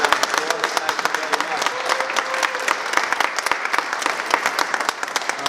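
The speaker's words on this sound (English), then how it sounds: "I'd like to give him a good round of applause." Dense, energetic round of applause from an audience at a press conference, steady clapping filling the whole stretch with a few voices faintly underneath.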